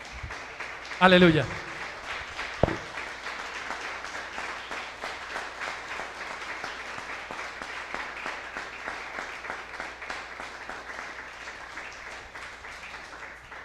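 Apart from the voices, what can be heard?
church congregation applause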